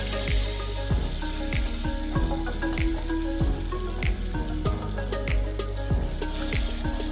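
Potato and gram flour batter frying in a non-stick pan, giving a loud, continuous sizzle with a steady tonal hum underneath and occasional sharp clicks, with no speech.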